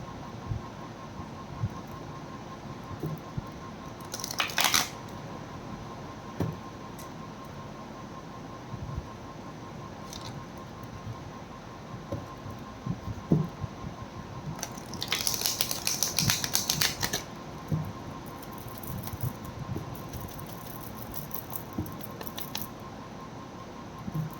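Tarot cards are shuffled in short bursts, a crisp riffling flutter near the start and a longer rustling run midway, close and fairly quiet against a soft steady hiss.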